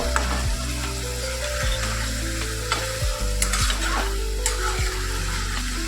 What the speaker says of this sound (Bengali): 1/2 চামচ মতো গরম মশলা দিয়ে এবার এটাকে সুন্দর করে নেড়ে নেব।